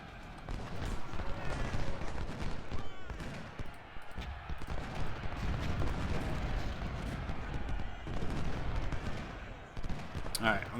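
Artillery fire in the Civil War strategy game Ultimate General: Civil War at Malvern Hill, with repeated booms and crackling volleys rolling continuously at moderate loudness beneath someone talking.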